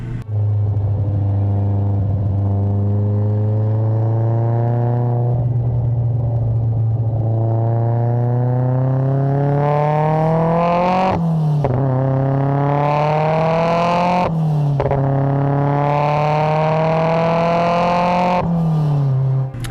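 A Nissan S14's inline-four engine drones close and loud, rising in pitch through several revving pulls with brief dips between shifts, steady and unbroken with no talking.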